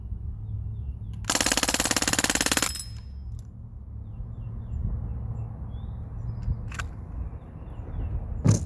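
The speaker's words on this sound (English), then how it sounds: "Fun little gun. Nice to get out here and plink with." Small gun fired on full auto outdoors while plinking, a single dense, loud burst lasting about a second and a half, then a quiet stretch with faint scattered sounds.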